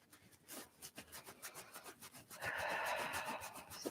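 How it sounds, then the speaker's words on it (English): Fingertips rubbing firmly across the upper chest between the collarbone and breasts, both sides at once, giving a soft close scratchy friction that swells into a steady, louder rub in the second half, with no talking. "We're just going to rub here."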